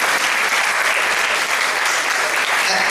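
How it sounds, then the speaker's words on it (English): Audience applause at a retirement function at St Jago High School, a steady, dense wash of clapping from a large crowd that holds at full strength throughout without letting up. "Give her one more round of applause."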